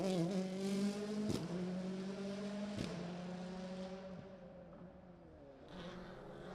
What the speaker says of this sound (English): hear Peter struggling to get on that throttle as the car twitches and slides around